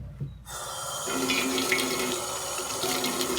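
Water pouring from a tap into a container, a steady close rushing and splashing that begins after a brief quiet moment and runs on evenly.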